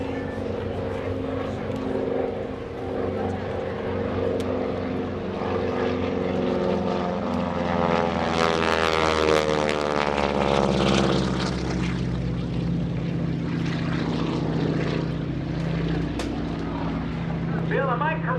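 A Pratt & Whitney radial aircraft engine drones loudly and steadily at an airshow, with a Doppler-like sweep as the plane passes close by, and a continuous rumbling roar throughout.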